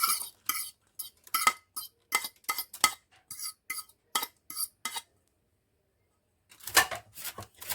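Vegetables are spooned onto a steak and potato tray with sauce: a quick run of metallic clinks and scrapes from utensils on the tray, then a pause and one last clatter.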